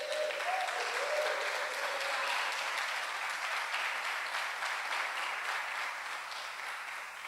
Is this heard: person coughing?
no